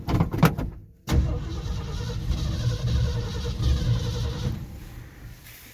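Ford F100 pickup engine with a freshly rebuilt carburetor: a few short cranking bursts and a brief gap, then it catches and settles into a steady, loud, close low rumble with no talking.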